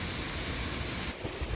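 Water rushes down Yongma Falls, an artificial waterfall below a huge rock mountain, as an even, hissing roar heard from nearby. The roar dips slightly just past the midpoint, and no one speaks.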